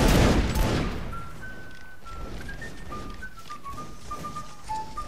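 Musket volley from a reenactment regiment, one loud crashing blast that decays into a lingering rumble, with faint whistling tones and distant noise through the tail.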